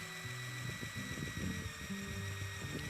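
Power drill boring a tap hole into a maple tree trunk for sap in Newfoundland, a continuous whining motor hum with shifting pitch as the bit works into the wood, close by.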